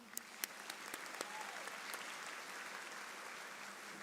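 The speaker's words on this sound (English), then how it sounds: "Let's give them a round of applause." Graduation audience at a baccalaureate ceremony applauding nursing faculty, distant, quiet clapping that spreads into a soft, even wash, with a few sharper claps near the start.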